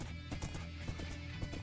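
A horse in the Minecraft video game trots with quick, evenly spaced clip-clop hoofbeats, soft and steady over a low background hum, no talk.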